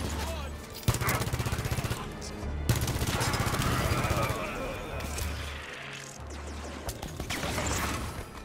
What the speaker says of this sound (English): I'm gonna stay up here and just shoot him from afar